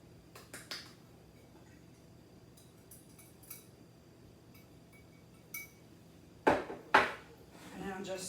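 A fork knocking against a bowl while mixing spices into cream cheese, a few sharp clinks and taps scattered over quiet stretches, with louder clustered clinks near the end.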